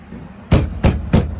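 Three loud, evenly spaced bangs on a door in an old jail, each a sharp knock with a short ringing tail, close to the microphone with no talking over them.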